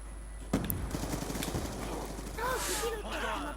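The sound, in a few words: assault rifle gunfire in Call of Duty video game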